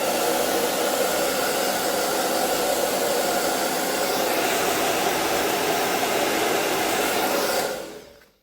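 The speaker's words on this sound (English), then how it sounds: "this hairdryer is quite strong and everything will go everywhere" A strong hair dryer blasts at close range, a loud, steady rushing whoosh that holds for about eight seconds and then cuts off quickly.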